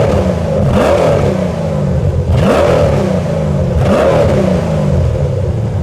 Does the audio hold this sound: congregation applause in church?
no